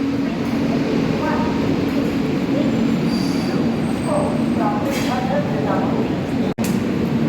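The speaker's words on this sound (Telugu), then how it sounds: "ప్లాట్ఫామ్ నెంబర్ 1లో ఒక ట్రైన్ వస్తుంది, జైషీది తాంబరం 12376 ట్రైన్ నెంబర్." Train 12376 to Tambaram pulls into platform 1 at a busy Indian station, a steady loud rumble of rolling railcars with faint wheel squeals, under a hum of crowd chatter and nearby voices.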